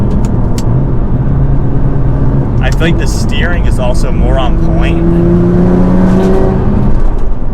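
An R35 Nissan GT-R on lowering springs is driven hard, its engine droning loudly with rising revs and a steady whir from inside the cabin, while someone talks over the noise.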